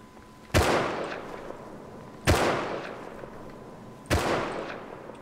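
Three evenly spaced, loud single gunshots ring out in a firefight in Rust, each sharp crack trailing off into a long echoing decay, with no talking.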